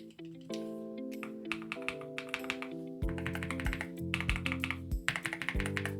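Keys clack on a NuPhy Air 75 V3 low-profile wireless mechanical keyboard in a quick, uneven run of close taps, quiet at first and then louder and denser, over a faint steady background hum.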